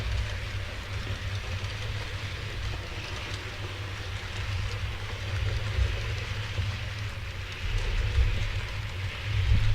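A Farish Standard 4MT tank model locomotive runs along a model railway track, giving a soft, steady low rumble and whir that swells slightly toward the end.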